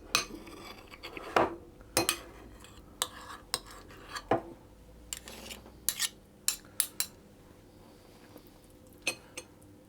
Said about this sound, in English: I'm just putting the apricot filling into the centre, and I'm going to spread that over the surface just to level it off